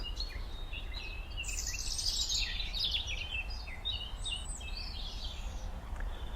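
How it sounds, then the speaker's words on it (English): Woodland birds chirp and trill at Martin Mere wetland reserve, fairly faint and distant, over a low steady outdoor rumble. "we've heard some of the birds in the woodland habitat"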